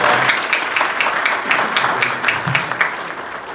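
An audience at the launch ceremony of a law chair applauds, rhythmic rounds of clapping rising and falling in waves before slowly fading.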